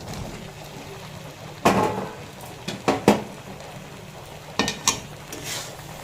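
Fried potatoes and pointed gourd tipped into a pan of masala for a vegetarian Bengali dish, a few sharp clinks and scrapes of a spoon against the pan over a faint steady background hiss.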